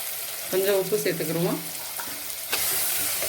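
Tomatoes are being sautéed and stirred in a pan of oil for prawn biryani, giving a steady close sizzle with a spatula scraping, while a voice is briefly heard.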